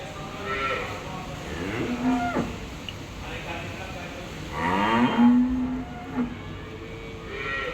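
A dairy cow at a farm lets out several drawn-out moos at moderate distance over steady outdoor background noise, with a louder, longer moo near the middle.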